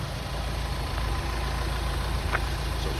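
Ford Transit 350 TDCi 125 diesel dropside with twin rear wheels idling, a steady low rumble holding constant throughout, fairly close and alone with no talk.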